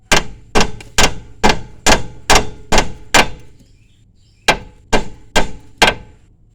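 A hammer strikes the new steering knuckle during a 2014 Kia Forte wheel bearing job, with a run of eight loud, evenly spaced metallic blows, a pause, then four more, close and ringing.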